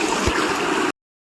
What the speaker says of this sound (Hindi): तो ये देखो ये पूरा पानी।